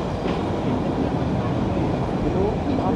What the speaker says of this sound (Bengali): আমাদের ট্রেন প্রবেশ করছে দার্জিলিং স্টেশনে